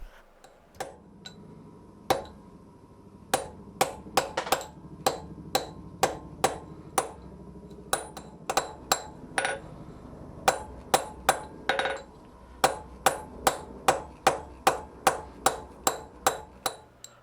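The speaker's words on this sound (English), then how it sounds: "I need to hammer the corners of the nut back down until I get a round washer that fits the bar." Steady hammer blows ring out on a steel nut as a blacksmith flattens its corners into a round washer at the anvil, sharp metallic strikes coming in fast irregular runs, close and loud, with no talk.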